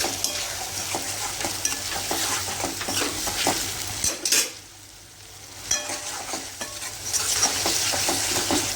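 Shevla (wild monsoon vegetable) is stirred with ground masala in a pan. A spoon scrapes and turns steadily over a soft constant sizzle, with a brief pause partway through and no talking.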